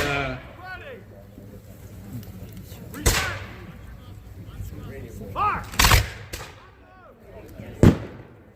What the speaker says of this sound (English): the Jaegers are shooting at them from the side, or the flank, as they say